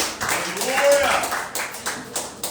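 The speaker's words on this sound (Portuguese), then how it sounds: "as palmas da glorificação em nome do Senhor" A church congregation claps in praise, a dense run of hand claps filling the room, mixed with voices speaking over it.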